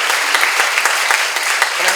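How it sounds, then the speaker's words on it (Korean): A crowd at a church seminar claps together in a loud, steady burst, many hands striking at once with a few sharper individual claps standing out. "박수로 하세요."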